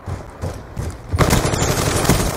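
Video game gunfire: a close, rapid burst of loud shots in the multiplayer shooter match, several rounds fired in quick succession over a couple of seconds with no talking.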